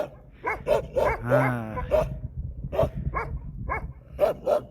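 Several dogs barking outdoors along a road between Libb and Ash Shuqayq in Jordan, with sharp repeated barks, a drawn-out howl-like whine and yips at close range, plus a brief voice.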